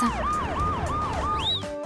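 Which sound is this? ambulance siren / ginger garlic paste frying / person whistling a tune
ambulance siren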